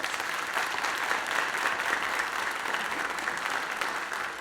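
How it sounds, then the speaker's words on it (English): A school district audience at a "State of Our Schools" program applauds its principals, a dense, steady wash of clapping from a large crowd, sustained evenly for several seconds without voices. "Can we give our principals a round of applause"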